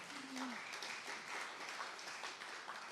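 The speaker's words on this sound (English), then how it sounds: "So you can give him a round of applause." A forum audience in Athens gives a soft, fairly distant round of applause, with a brief voice or tone at the start.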